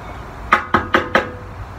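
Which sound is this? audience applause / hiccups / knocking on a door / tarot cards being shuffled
knocking on a door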